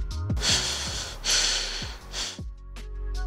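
Heavy, labored breathing up close: several loud, rasping breaths in quick succession, some with a strained voiced edge.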